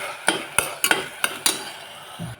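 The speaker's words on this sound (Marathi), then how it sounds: "सॉसही आपण छान परतून घेऊ सोया सॉस" A spoon scrapes and taps in a pan while soy and tomato sauce are stirred and sautéed for Chinese-style khichdi, giving about seven sharp, close knocks in quick irregular succession with a faint sizzle beneath.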